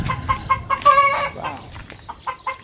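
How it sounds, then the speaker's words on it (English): Hens clucking in a farm animal pen at the OC Fair: a close, busy run of short clucks and one louder squawking call, with some background murmur. "These are called hens."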